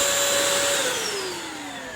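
A Bissell wet-dry vacuum floor cleaner runs alone with a steady, loud motor whine and airy rush, its pitch sliding slightly downward over the short stretch.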